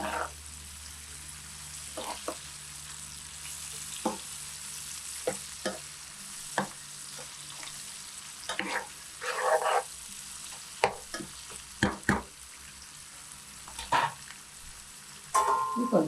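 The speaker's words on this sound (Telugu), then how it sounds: "ఈ టైంలో నేను కొత్తిమీర కూడా వేసేస్తున్నాను" Fish masala curry base with coriander leaves frying and being stirred in a pan, giving intermittent scraping stirs over a soft, steady sizzle, fairly quiet and close, with no talking.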